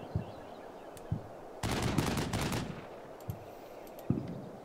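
Gunfire in the Combat Mission Red Thunder war game: scattered single distant-sounding shots, then a sharp burst of rapid automatic fire lasting about a second, followed by more isolated shots.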